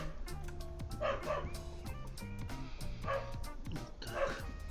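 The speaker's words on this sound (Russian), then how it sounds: "Снова начал гавкать." A dog barks several times in short, spaced yips over a steady mechanical hum and a whining tone, heard indoors at moderate distance.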